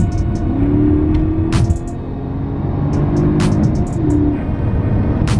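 A Mercedes-Benz CL550 with 382 horsepower accelerates, its engine note rumbling and rising in pitch in two surges, heard from inside the car along with faint clicks.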